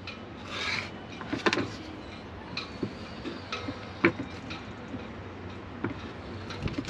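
Insulation housing being cut off a lithium battery cable with a blade, a close series of scraping rasps and small ticking clicks, irregular and fairly quiet throughout.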